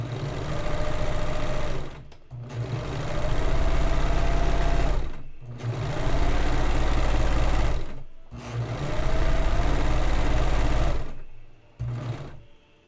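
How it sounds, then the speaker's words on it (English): A domestic sewing machine stitches a petticoat, running in four long steady bursts separated by short pauses. The motor hums loud and close, with no talking. "my sewing machine's so slow"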